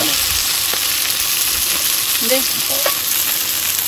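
Mackerel frying in a pan for bangude masala fry gives a loud, continuous close sizzle with occasional light scraping and stirring.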